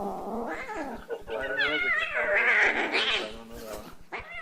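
A voice imitating a cat called Kobe the Kitty: drawn-out, wavering meows and caterwauls, loud and close, rising and falling over several seconds with brief pauses.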